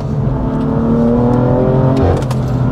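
A BMW M4 GTS engine pulls hard under acceleration, a loud, steady rising drone that holds close throughout with no break.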